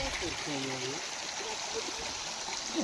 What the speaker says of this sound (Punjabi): ਇੱਕ ਛੋਟਾ ਜਿਹਾ ਝਰਨਾ ਵੀ ਹੈਗਾ ਜੀ